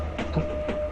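A moving train gives a steady low rumble with a faint tonal hum, heard briefly and alone at moderate level.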